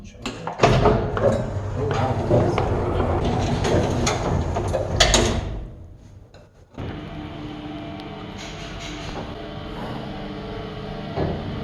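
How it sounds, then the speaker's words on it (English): A door opening on an express lift in the abandoned St Thomas's Hospital in London, with loud mechanical rumbling and clatter for several seconds, then a brief lull before a steadier whirring hum resumes. "This is the door open."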